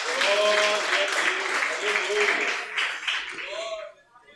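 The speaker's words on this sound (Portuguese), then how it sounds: "Pode assentar e bater aquelas palmas bem avivadas para o Senhor Jesus." A church congregation claps hands lively during a family worship service, a broad wash of applause sustained for about four seconds, with voices speaking and calling out over it before it fades out.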